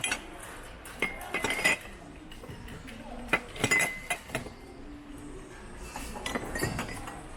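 Ceramic cups and dishes clink and knock as they are handled in outlet-store bins, with sharp scattered clatters in bursts among faint background noise and quiet voices.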